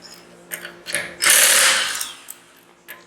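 An impact wrench removes wheel lug nuts during a wheel spacer install, giving one loud, close, whirring burst of a little under a second, framed by lighter mechanical clicks and ratcheting taps.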